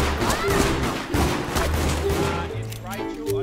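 Rapid gunfire bursts crack repeatedly in the video game Deceit, a shotgun among them, mixed with game sounds and players talking over the shots.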